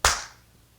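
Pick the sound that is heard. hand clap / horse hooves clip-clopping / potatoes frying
hand clap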